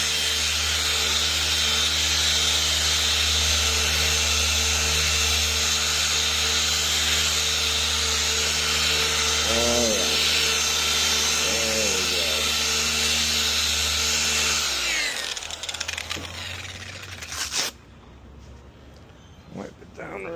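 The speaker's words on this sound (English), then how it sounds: "gotta go back, polish her up" Power polisher buffing a Toyota RAV4 headlight, a steady loud motor whine with constant tonal hum for about fifteen seconds, then it winds down and stops, leaving quieter handling noise and brief talk.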